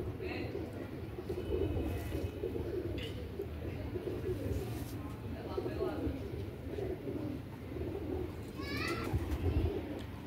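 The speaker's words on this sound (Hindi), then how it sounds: "अच्छे दराज कुंदे का कबूतर है" A Royal Teddy pigeon coos in a pigeon loft, soft repeated cooing under a steady background murmur with other bird calls, moderately near.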